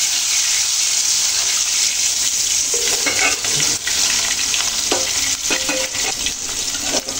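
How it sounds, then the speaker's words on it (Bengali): Taki fish fry in hot oil in a wok, giving a continuous close sizzle with intermittent stirring scrapes and spatters throughout, loud and steady, with no speech. "মাছগুলো ভেজে নেব।"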